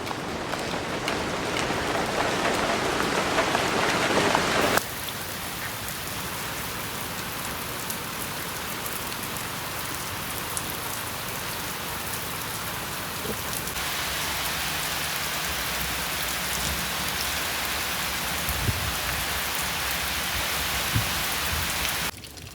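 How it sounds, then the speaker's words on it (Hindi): Steady rain pours onto surfaces outside during a cloudy morning near rice fields, forming a dense, continuous hiss throughout. A heavier patch at the start gives way to slightly softer, even rainfall with scattered drops and faint low rumbles. "कुछ ही देर में बारिश शुरू हो गई"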